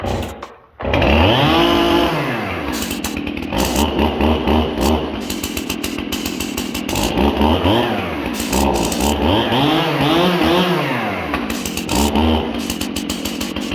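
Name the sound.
Stihl chainsaw running at high idle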